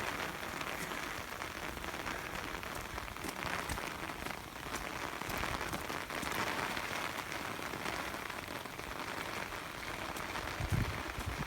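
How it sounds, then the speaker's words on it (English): Heavy rain pours down outdoors near a covered backyard pool, a dense, steady hiss of drops drumming on surfaces that stays loud and even throughout, with no voices. "Oh my gosh, it started pouring."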